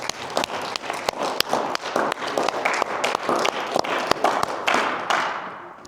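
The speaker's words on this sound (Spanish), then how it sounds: "Vamos a dar un aplauso al Rey de Reyes." Church congregation clapping for the King of Kings in a Spanish-language service, a dense, steady roar of many hands with sharp individual claps standing out, fairly loud and close, thinning near the end.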